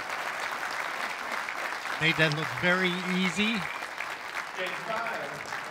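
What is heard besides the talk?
audience applauding a pool shot at the WPBA Masters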